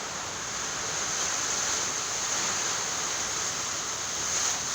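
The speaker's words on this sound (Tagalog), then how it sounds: "Nalilipad po yung bubong nila tatay, oh. Lakas ng ulan," Strong typhoon wind and heavy rain roar steadily and loudly as a house roof is being torn off, a continuous dense rush with no pauses and no voices.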